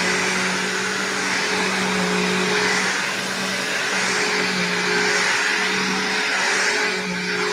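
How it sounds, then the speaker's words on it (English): A refurbished 3522 vacuum cleaner runs continuously with a loud, even motor whine and airy rush over a low hum, steady from start to finish with no voices. "But now it's time for the 3522 that I refurbished."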